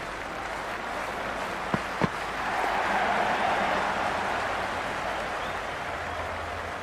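A simulated stadium crowd at a Cricket 26 match between Karachi Kings and Perth Scorchers keeps up a steady, moderate roar, broken early by a couple of sharp knocks.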